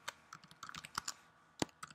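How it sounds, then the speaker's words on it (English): Quick, irregular clicking keystrokes on a computer keyboard, close and fairly quiet, with one sharper key press near the end. "This is really me typing my stuff in."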